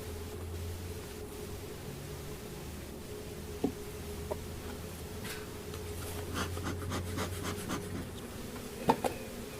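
Honey bees hum steadily around an open hive during an inspection for American foulbrood, a low continuous drone with a few faint clicks and taps of handling equipment nearby.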